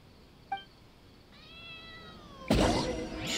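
A cat meows in Genshin Impact: a short chirp, then a longer drawn-out meow, followed by a louder burst of game noise.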